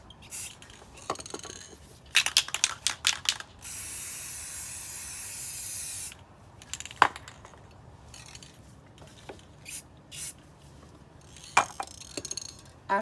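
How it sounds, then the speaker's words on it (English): Several short hisses of spray paint from a can onto water for hydro dipping, then one long continuous spray, with faint rattling and clicks between bursts. "Keep spraying the colors until you like the design or pattern."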